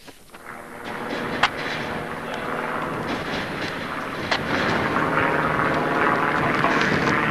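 An aerobatic propeller plane roars overhead during an air show, its engine a loud, sustained drone that swells and shifts in pitch as it maneuvers, with no voices.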